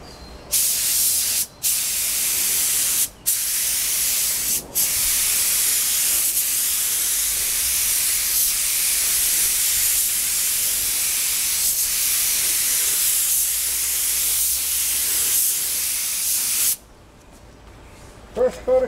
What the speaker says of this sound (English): First coat of clear going on.